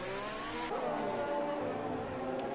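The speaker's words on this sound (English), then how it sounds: "Now this is the Haas pitting." A Haas Formula 1 car in the racing game F1 2020 pits, its high engine whine steady and loud, with a sharp gear change and falling pitch partway through.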